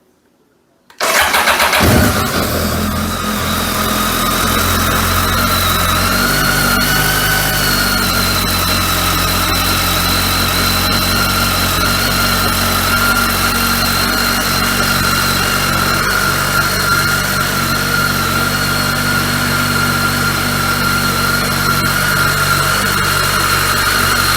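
A BMW K1300R 1293cc motorcycle starts with a short crank after silence, then settles into a loud, steady idle that holds evenly for the rest of the clip, with no talking.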